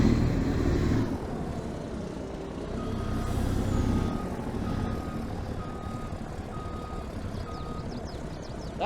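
A truck in Farming Simulator 22 reverses with an evenly spaced series of beeps over a low, rumbling engine, joined by a brief hiss like an air brake; no one speaks.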